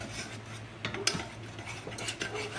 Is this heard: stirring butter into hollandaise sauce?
yes